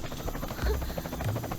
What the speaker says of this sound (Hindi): संजय, वो देखो, हेलीकॉप्टर।